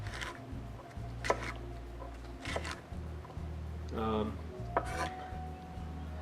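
A knife slices cucumber into thin strips on a cutting board, giving a few sharp taps and clicks over a low hum, while a person speaks briefly.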